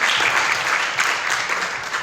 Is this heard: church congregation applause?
yes